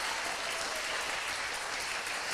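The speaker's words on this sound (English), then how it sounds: "Can we give them another round of applause?" Audience applause for folk musicians Bianca De Leon and Kerri Powers at a concert: a dense, steady wash of many hands clapping, loud and unbroken for the whole moment, with no talk over it.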